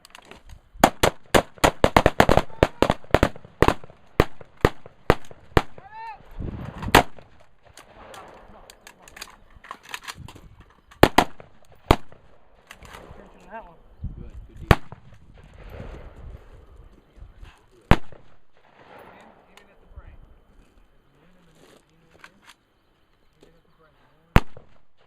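Pistol shots crack in a fast string at the start of a shooting drill as a magazine is emptied, then come a few scattered single shots after a pause, with some movement and shuffling in between.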